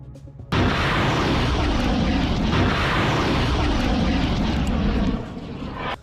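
An attack drone launched toward Eilat starts abruptly with a loud, steady, broadband engine roar that holds for several seconds and then drops off slightly at the end.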